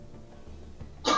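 Someone coughs once in the background of a StarCraft TvT match broadcast, a short, fairly loud burst near the end that follows quiet room noise.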